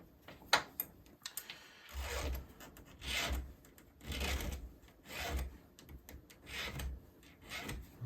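A chainsaw chain being sharpened by hand with a file, a repeated rasping stroke about once a second, close and fairly quiet, with no talking.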